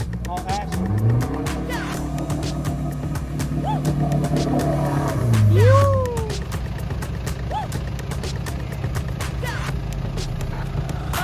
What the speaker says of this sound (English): Keep driving, Adele, give it heaps.